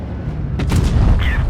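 A heavy tank's main cannon firing in a tank battle video game, a loud booming shot with a sharp onset partway through, followed by continued rumbling battle noise and a brief high whine near the end.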